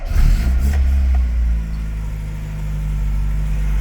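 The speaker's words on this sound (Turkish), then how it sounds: "Araba birkaç gündür yatıyor. Benzinden bir marş yapalım." A petrol car engine, left standing for a few days, cranks and catches, revving briefly before settling into a steady idle, loud and close with no talk.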